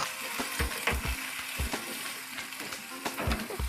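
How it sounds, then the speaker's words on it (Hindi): Beef sizzling as it fries with ginger garlic paste for Afghani gosht, with steady crackling and repeated stirring scrapes and knocks of a spoon against the pan, close and unaccompanied by talk. "हमारा गोश्त भुन गया है, हम इसमें डाल देंगे 1 table spoon ginger garlic paste और इसको जिंजर गार्लिक पेस्ट के साथ"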